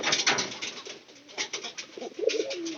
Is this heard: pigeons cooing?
yes